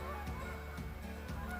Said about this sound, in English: apparently a whole bunch of geese just landed.